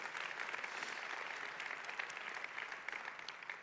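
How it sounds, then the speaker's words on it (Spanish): A church congregation applauding during a sermon, a faint, distant, even patter of many hands clapping that holds steady throughout. "Dale un fuerte aplauso al Señor."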